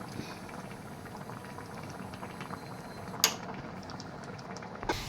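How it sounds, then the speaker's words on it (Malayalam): A pot of taro-stem curry bubbles and simmers steadily throughout, a thick rolling boil with a couple of sharper clinks near the middle and end. "നമുക്ക് നല്ലോണം എല്ലാവിടെയും തിളച്ചിട്ടുണ്ട്"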